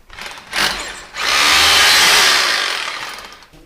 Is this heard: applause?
no